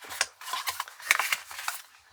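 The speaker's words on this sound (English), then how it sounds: "get your scissors, always cut from the back" Scissors snip through folded cardstock in a quick series of crisp cuts, close and fairly quiet, made from the back of a scored Art Deco shaped card.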